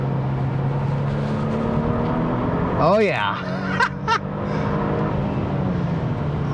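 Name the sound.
Genesis G70 2.5T sedan driven on race track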